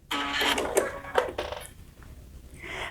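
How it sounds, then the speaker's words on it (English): A Baby Lock Crescendo sewing machine backstitches and trims its thread: a few quick, close mechanical stitching bursts and clunks, then a short whirring finish. "when I hit the backstitch button, it's going to backstitch, trim the thread, and lift my presser foot"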